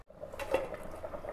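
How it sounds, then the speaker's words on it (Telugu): A metal lid lands on a pot of simmering fish curry with a quick clank and a brief ringing tone, followed by a soft bubbling hiss from the pot. "ఇప్పుడు ఒక్కసారి కలిపి మూత పెట్టేసి ఈ గ్రేవీలో ఫిష్ని మంచిగా ఉడకనివ్వాలి."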